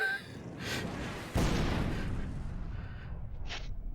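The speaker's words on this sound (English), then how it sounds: "rattle as the roar of an explosion fills Troll Skull Alley" An explosion roars in Troll Skull Alley with windows rattling, heard as a sudden heavy boom that swells and then leaves a long, rumbling, crackling tail with faint rattles.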